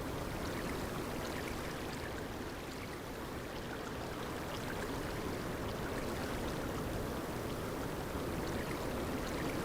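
Continuous flowing water in the Final Fantasy XI game world, a steady, full rush of stream-like noise that holds at an even level throughout with no pauses.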